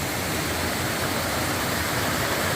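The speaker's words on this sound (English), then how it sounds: "came across this waterfall" Rain-swollen waterfall on the Appalachian Trail, heard close as a loud, continuous broadband roar of rushing water with no breaks or voices.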